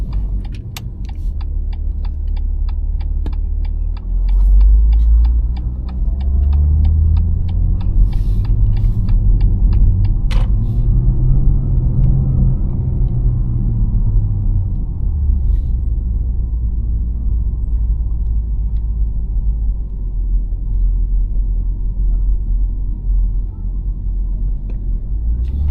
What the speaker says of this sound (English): So now I'll go into manual, and yeah, we'll just go for a drive around this area.